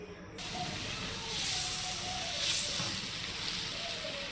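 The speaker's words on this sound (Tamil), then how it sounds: "இப்போ தண்ணி வந்து நல்லா கொதியுது" Water heats to a boil in a pan on a stove while cooking, a soft continuous hiss and bubbling sizzle that swells gently twice, fairly quiet and without any voices.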